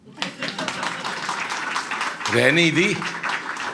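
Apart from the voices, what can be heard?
a few audience members clapping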